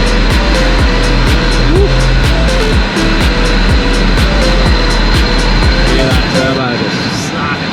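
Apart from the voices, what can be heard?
modified Toyota Hilux turbo engine sucking in air while accelerating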